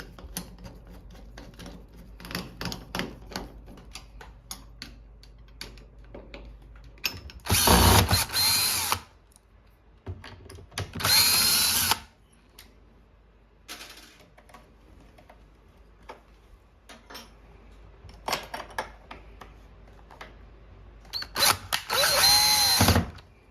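A power screwdriver drives screws while a bathroom or bedroom privacy door knob is being replaced, sounding in three loud whirring bursts of a second or two each, separated by quieter clicks and handling noises.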